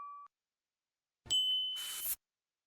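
A short bright notification bell ding, followed after a pause by a brighter chiming alert with a shimmering tail, both clean and close against silence, with no voices.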